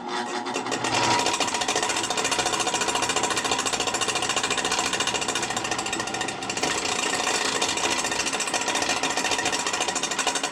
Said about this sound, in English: This drill press is probably 1950s vintage. I don't know, you can tell it's a rackety old thing.